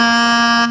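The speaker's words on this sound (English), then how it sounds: "So we played a low G." A bagpipe practice chanter sounds a loud, buzzy sustained note, close and alone, held steadily for a fraction of a second before easing off.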